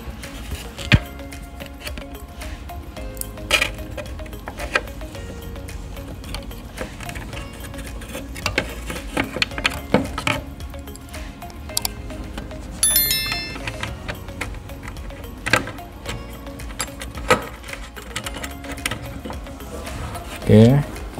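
Bolts on a welding machine are tightened with a wrench, heard as close, repeated ratcheting clicks and metallic ticks over a steady hum, with occasional talk and a few sharper clanks.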